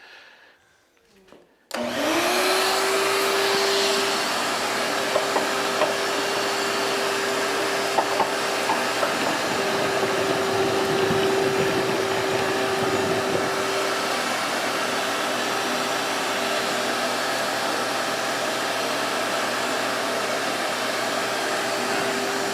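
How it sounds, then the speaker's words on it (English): A shop vac starts after a brief quiet moment and then runs loud and continuous with a steady whine and roar, close by, with no talk. "You should be able to turn that shop vac off now."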